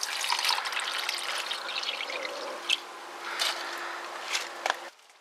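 Liquid fertilizer pours from a watering can onto a Canadian watermelon plant in a garden, a steady close trickle that fades out near the end.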